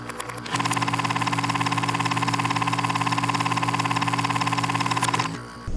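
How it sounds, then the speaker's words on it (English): RV engine on the road, a steady loud mechanical hum with a rhythmic tapping pulse that starts abruptly, holds constant for several seconds, then cuts off. "We are leaving Bahia Honda State Park after 5 nights, and we're heading down the road"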